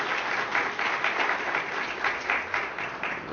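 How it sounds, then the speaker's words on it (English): Dense, even clapping from a crowd at a festival announcement event, continuous and moderately loud throughout with a slight pulsing swell. "Please give them a big round of applause."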